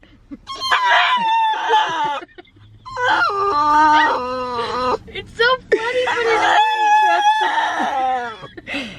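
A dog with an unusual, howling bark gives long, wavering cries in three drawn-out bouts, loud and close, with a person briefly talking between them.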